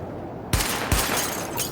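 Gunfire at highlighted targets during a weapon test in the video game The Division: a hush, then a burst of sharp shots with two strong reports and rapid follow-up fire, close and loud.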